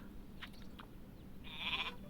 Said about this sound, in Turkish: Bir tane de koyun geldi.